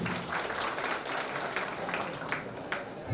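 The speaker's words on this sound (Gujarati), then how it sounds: "તો આપણે એમને ફરીથી એકવાર તાળીઓથી વધાવી લઈએ." A crowd applauds a police officer at an SRP police camp farewell ceremony, with steady, dense clapping throughout.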